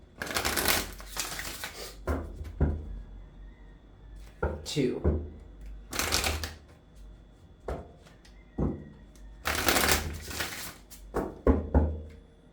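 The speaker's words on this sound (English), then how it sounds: "5 shuffles here" Oracle cards being shuffled in several quick riffling bursts with pauses between, close up, while a person counts aloud between bursts.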